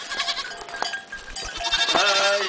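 Goats bleat in a livestock setting during the gathering of a herd, wavering cries mixed with faint bell clanks and scattered farm noise, fairly close and loud throughout.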